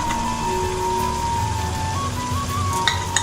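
Spice masala, chilli powder and garam masala, sizzling in hot oil for an Agri-style mackerel curry, a steady close crackle with a faint tonal hum beneath and a couple of soft knocks near the end.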